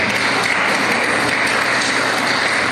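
A church congregation applauding the Lord, a dense, loud, even wash of many hands clapping at once with no voices standing out.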